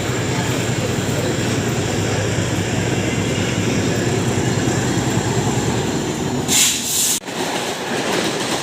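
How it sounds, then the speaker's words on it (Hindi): Mumbai Central Line local train arriving at a station, a loud continuous rumble and rattle of rail cars close by, with a brief sharp burst near the end before the noise settles. "तो फिलहाल हमारी ट्रेन आ चुकी है"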